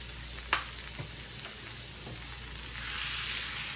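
Shrimp fry in a pan seasoned with cayenne, pepper, salt and paprika, giving a steady close sizzle with a few sharp clinks and stirring scrapes, the hiss growing brighter and louder near the end.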